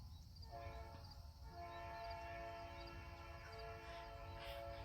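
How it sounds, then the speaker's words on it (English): A distant train whistle sounds in a long sustained tone with steady harmonics, faint and drawn out over the whole stretch above a low rumble of outdoor background noise, with no talking. "There's always train whistles in all my videos."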